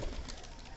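Pigeons coo on a rooftop on a cold winter morning, a soft, muffled, continuous low murmur heard close by for a brief moment.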